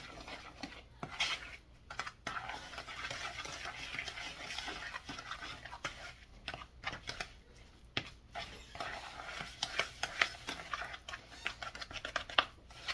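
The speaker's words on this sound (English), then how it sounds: "Stir this until it's like a crumb topping" A spoon stirs a crumb topping mixture for carrot cake muffins in a bowl, giving soft, faint scraping and irregular light clinks that run on steadily with small taps.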